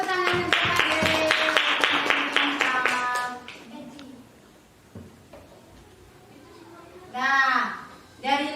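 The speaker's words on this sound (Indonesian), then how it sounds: "tepuk tangan untuk Fadil" Classroom clapping for a student named Fadil, a short burst of quick, close hand claps among children, fading after a few seconds into quiet room noise before a teacher's voice speaks.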